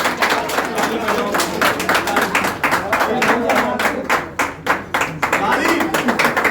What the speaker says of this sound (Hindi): चलो वो ताली बजाओ, ताली बजाओ, ताली बजाओ, ताली बजाओ,